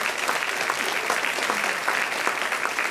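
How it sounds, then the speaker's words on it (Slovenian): Applause from a seated audience at an awards ceremony fills the hall with dense, steady clapping that holds evenly throughout, with no voices breaking through. "Dajte jim en spodbuden aplavz."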